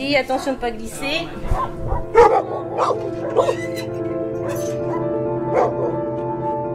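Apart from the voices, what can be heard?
dog barking and whimpering at animal shelter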